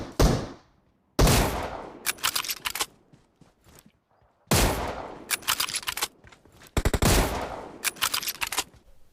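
Gunfire in PUBG Mobile, loud bursts of rapid shots with sudden onsets and ringing tails, separated by short pauses, with soft footstep-like thumps between bursts.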